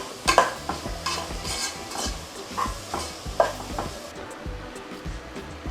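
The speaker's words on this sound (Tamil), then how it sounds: "கொஞ்சம் நேரம் காய் வேகிற அளவுக்கு கொஞ்சம் நேரம் கிளறி விடலாம்." Vegetables stirred in a hot pan for coconut rice: faint, repeated scraping strokes over a soft, continuous sizzle.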